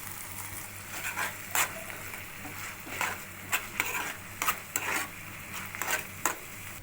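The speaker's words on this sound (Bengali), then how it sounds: "এবার পেঁয়াজ দিয়ে দিলাম আর টমেটো দিয়ে দিলাম এগুলো ভাজা ভাজা হয়ে গেলে সয়া সস আর ভিনিগার মিশিয়ে এর মধ্যে দিয়ে দিলাম" Onion and tomato fry with soy sauce and vinegar in a pan, a soft background sizzle broken by repeated sharp scraping strokes of stirring.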